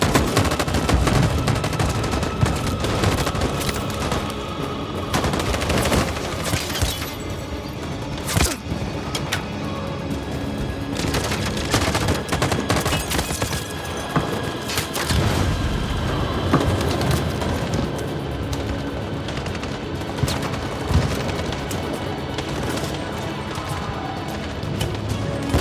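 A gunfire volley in the game Detroit: Become Human, with heavy, sustained bursts of automatic fire and sharp cracks pounding on loudly with barely a pause.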